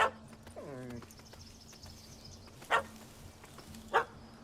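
A puppy in The Witcher 3: Hearts of Stone gives a short whine, then two sharp, separate barks that come a little over a second apart, against a quiet game ambience.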